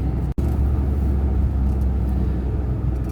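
A car drives along a grey, foggy rural road toward a village, its steady low rumble of engine and road noise filling the interior, with one brief dropout.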